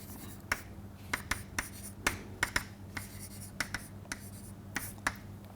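Chalk or marker tapping and scratching on a board during a mathematics lecture on modules and homomorphisms, a string of sharp, irregular strokes over a steady low room hum, with no talking.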